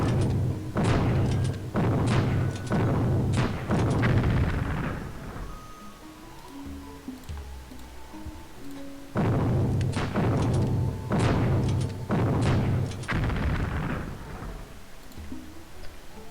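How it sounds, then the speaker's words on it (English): Artillery fire in the strategy game Civilization III comes in two bursts of rapid booming shots, each a cluster of several heavy thuds followed by quieter rumbling, with no talking. "Okay, looks like it's 2 artillery."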